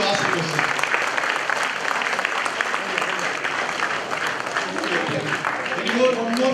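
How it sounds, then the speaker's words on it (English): Steady, full applause fills a hall at a large career guidance event, a dense crowd clapping for a boy who asked a question, continuing evenly throughout with murmured voices mixed in. "I think this is a time we have to give a good round of applause for the boy who asked the question."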